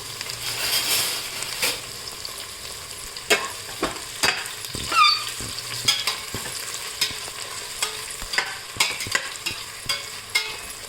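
Garlic and onion frying in oil for a vegetable bath, a continuous close sizzle broken by repeated spatula scrapes and clacks against the pan.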